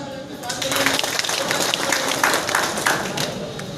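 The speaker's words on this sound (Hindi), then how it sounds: "जोरदार ताली बजा करके स्वागत करिए" Crowd applause greeting party leaders as they are introduced at a political rally in Mau, dense steady clapping with a loud hall wash and occasional voices throughout.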